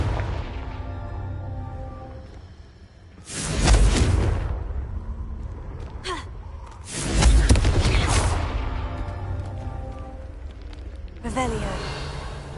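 Confringo spell explosions in Hogwarts Legacy, two heavy booming blasts each swelling and fading over about a second, with another burst near the end, loud and close over steady game ambience.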